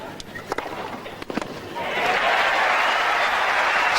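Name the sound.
crowd cheering for Anna Kournikova at tennis match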